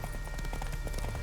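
Hooves of Geralt's horse Roach trotting in Witcher 3, a quick rhythmic clip-clop of several steps close by, steady and moderately loud.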